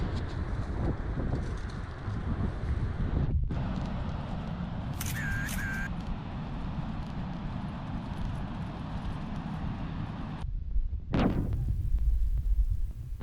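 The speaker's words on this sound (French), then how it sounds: "elle aime bien beaucoup couper la parole pour essayer de couper les bruits du vent" Strong wind buffets a GoPro microphone on a sailboat by the sea, a loud continuous low rumble and roar with brief dropouts where the camera cuts the sound.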